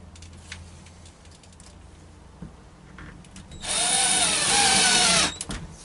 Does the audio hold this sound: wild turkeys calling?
no